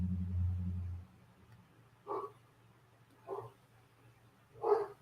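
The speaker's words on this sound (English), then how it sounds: "My dogs are barking" A dog barks three separate times, each a short muffled bark spaced about a second apart, heard indoors after a low rumbling hum fades out.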